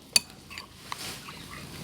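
A spoon clinks and scrapes against a bowl while salted egg sauce mixed with rice flour is stirred, giving a few light, scattered taps and clinks that are close and quiet, with no talking.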